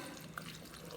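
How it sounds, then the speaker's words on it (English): A whole can of undrained corn poured into a crock pot, a short soft wet slosh and trickle of liquid heard close up, steady and quiet throughout. "Gonna pour in my whole can of corn"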